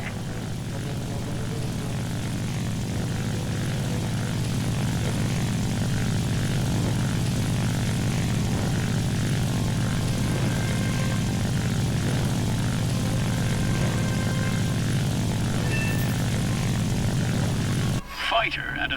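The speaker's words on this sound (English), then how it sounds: "Right now, you're controlling an attack aircraft." Assault plane in a combat flight game, its propeller engine droning steadily and loudly for about eighteen seconds with a constant low hum, voices talking over it before it cuts out near the end.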